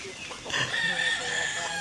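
Pet chickens at snack time in the Philippines, with overlapping clucks and a crowing rooster close by, steady and moderately loud for a couple of seconds.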